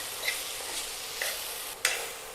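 Soya chunks dry-roasting in a pan over high flame, giving a steady close sizzle with a few soft scraping stirs and no talking.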